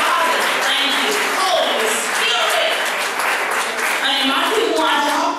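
Congregation applause at a Sunday church service, a dense steady wash of many hands clapping together, loud and sustained for the full stretch with a voice or two faintly mixed in.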